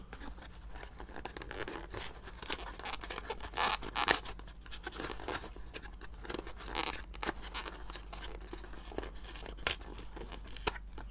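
Trading card pack being cut open, close quiet crinkling and scratchy tearing of foil wrapper in irregular bursts, without talk.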